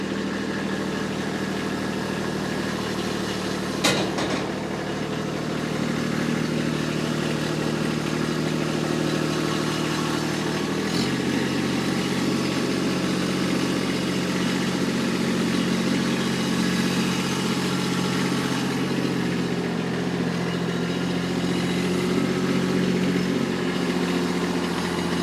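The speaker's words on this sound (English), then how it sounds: "I'm going to jump on the tractor here and get to backing it in." A Kubota tractor engine runs steadily while backing onto a dump trailer, a loud continuous idle-level drone with a low throb that shifts pitch slightly partway through, with a couple of brief knocks over the top.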